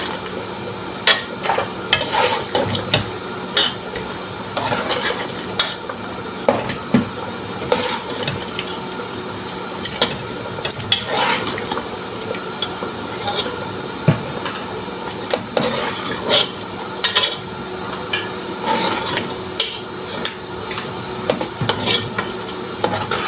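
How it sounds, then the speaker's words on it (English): Lamb and cassava leaf soup is stirred in a pot, producing repeated scraping and clattering of a spoon against the metal in irregular bursts over a low simmering sizzle, close and fairly loud, with no speech. "I'll put it back in and then we'll just carry on cooking with the cassava leaf."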